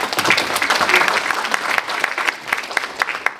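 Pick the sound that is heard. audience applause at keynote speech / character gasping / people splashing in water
audience applause at keynote speech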